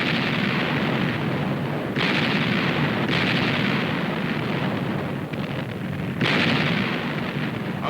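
Heavy battleship naval guns fire artillery in a continuous rumbling barrage, with repeated booming salvos layered over a dense, roaring wash of distant and near blasts.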